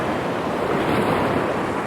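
Ocean waves wash steadily around someone wading in the surf, a loud continuous rush of breaking water with wind noise on the microphone and no voices.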